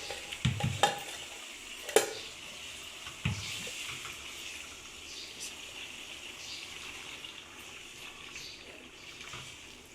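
Chicken pieces frying in hot oil for achar gosht, a steady sizzle with a few sharp clanks and stirring scrapes early on, then a continuous even crackle.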